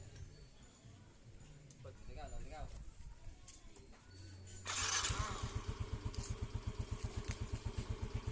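A Yamaha Mio Soul i 125GT scooter fitted with a racing pulley and driveface starts up after quiet moments, then settles into a close, rapid, even putter of the small engine; a voice speaks briefly beforehand.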